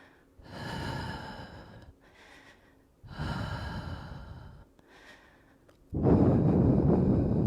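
Deep breathing during a yoga session in a revolving triangle pose, with slow audible inhales and exhales alternating in a steady rhythm, close and fairly loud, ending on a strong forceful exhale.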